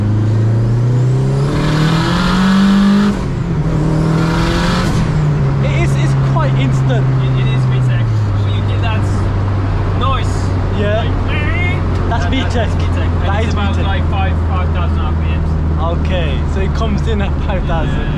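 A 450bhp turbo Honda Civic EK engine climbs through two loud, rising revs, then settles into a long, droning hum as it drives on. Voices talk over the engine.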